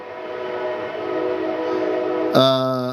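A train passes nearby with a steady rumble and roll, then a loud, harmonic horn blast sounds close by near the end, with no talking over it.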